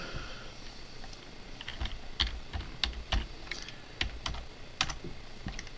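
Typing on a computer keyboard while writing Solidity code for an ERC20 token contract on Ethereum: irregular, crisp keystrokes in short bursts and single taps, fairly quiet and close, with no talking.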